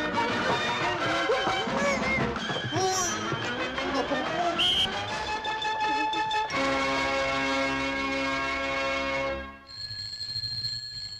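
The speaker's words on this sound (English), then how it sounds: "somebody answer the phone." A telephone rings in bright repeated bell-like tones, close and fairly loud, shifting to a steadier ringing pattern toward the end.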